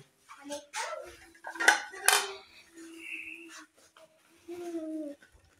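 Plates and dishes clink and clatter in a home kitchen as a plate is fetched, with a few sharp knocks near the middle and softer ringing scrapes afterward, fairly close and moderate in volume.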